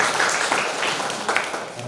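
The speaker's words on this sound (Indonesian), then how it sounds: "Mari kita tepuk tangan." Wedding guests clap after a church marriage blessing, a short stretch of dense, moderate applause filling the room with voices beneath it.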